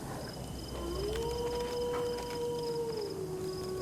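A dog monster in a horror video game lets out a long, wavering, howl-like cry that rises and holds for a few seconds over a faint, low ambient rumble.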